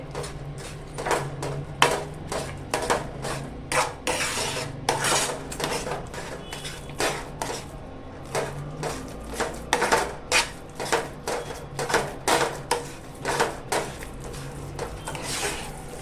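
A utensil stirs and mashes egg bhurji in a pan over a low gas flame, giving steady rhythmic scraping and clinking strokes that continue for the whole stretch with no talk.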